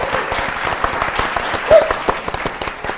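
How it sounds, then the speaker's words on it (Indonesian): Studio audience applauding the two teams on a televised quiz show, a brisk, close round of many hands clapping that holds steady for a few seconds. "kita beri tepuk tangan untuk kedua tim."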